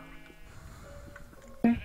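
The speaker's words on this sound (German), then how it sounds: "Noch ein braunes Schaf." A brown sheep in Minecraft gives a short, sudden bleat near the end, loud and close after quiet background sounds.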